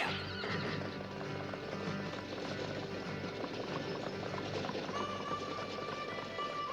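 A horse pulling a cart neighs and whinnies, with clip-clopping hooves and rolling noise continuing steadily at moderate distance; no talking is heard.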